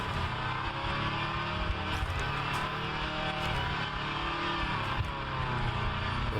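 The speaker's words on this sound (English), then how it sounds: "Sounds a bit like an Audi diesel. Sorry, George. But it is red, and it is a Ferrari." Ferrari hypercar engine in the rFactor 2 racing sim, a steady droning rumble with a dense harmonic whine, held fairly constant with slight rises and falls, close and continuous without speech.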